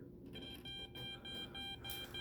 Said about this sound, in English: we're able to hear that beeping